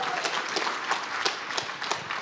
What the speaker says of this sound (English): please give a big round of applause for my co-producer, Lauren Trantham.